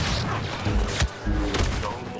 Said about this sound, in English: The blaster sound seems very authentic.